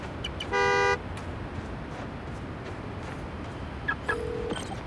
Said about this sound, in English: Find the horn, find the car.